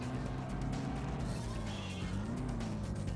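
Car drifting through corners in the PS2 racing game GTC Africa, a steady engine drone with a sustained tire squeal that rises and bends in pitch, heard continuously without speech.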